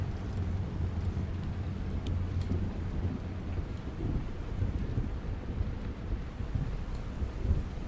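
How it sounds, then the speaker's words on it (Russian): Rain and rolling thunder in the video game Rising World, a steady wash of rainfall with deep low rumbling continuing throughout, loud and close, with no voices. "дождь пошел"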